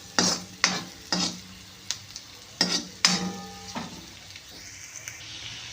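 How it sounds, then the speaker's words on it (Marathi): Onion being sautéed in a pan is stirred with a utensil, a series of sharp scraping and clanking strokes at an uneven rhythm over a low frying sizzle, close and clear, with no talking. "आता यामध्ये आपण कांदा छान परतून घेत आहोत"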